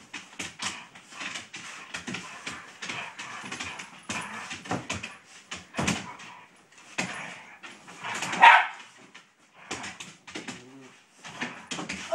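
A dog growls, grunts and whimpers in short bursts while tugging on a toy during a game of tug of war indoors, close and uneven, with a sharper yelp near the middle.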